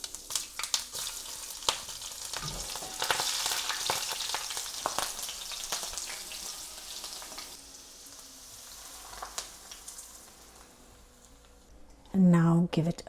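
Dried chilies dropped into hot oil with fenugreek seeds for a Nepalese potato pickle, giving a bright crackling sizzle that fades to a quieter simmer, with a short loud burst near the end.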